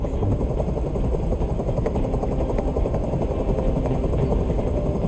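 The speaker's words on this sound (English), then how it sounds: "I can't stand that noise anymore tell that helicopter to get out of here." Steady loud helicopter rotor drone from the video game Detroit: Become Human, a continuous chopping roar that holds without pause.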